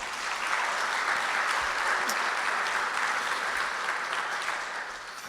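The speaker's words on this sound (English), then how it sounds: "Let's give her a round of applause for putting this on today." Sustained audience applause fills a hall of fame ceremony, a steady dense wash of clapping at full strength that tapers slightly near the end.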